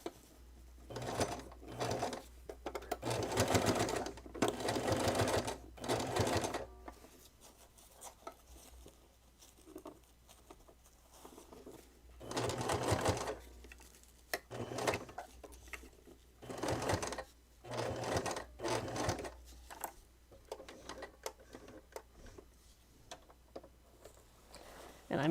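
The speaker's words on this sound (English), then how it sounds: "Get my top stitching all out of the way at the same time." A sewing machine top-stitches snow pants in repeated bursts of fast, rattling stitching, quiet and close, separated by pauses in which a person talks.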